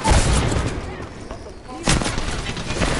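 Gunfire in Apex Legends cracks in loud bursts at the start and again near the end, with a quieter gap between, and a player voice faint under the shots.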